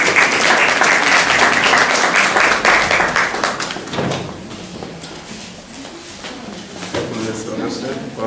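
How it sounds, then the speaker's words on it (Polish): An audience at a national literary competition award ceremony claps warmly in a loud, dense burst that fades out after a few seconds, followed by quieter shuffling and a voice beginning to speak. "Gorące brawa."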